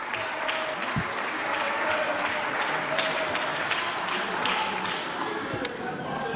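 Sustained applause fills the French parliament chamber, a dense steady clatter of many hands clapping with a few sharper isolated claps, with voices underneath.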